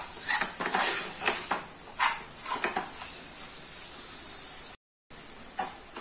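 Masala for a black chickpea (kala chana) gravy roasts in a pan while a spoon scrapes and taps against it in irregular clinks over a faint sizzle, close by, with a brief dropout near the end.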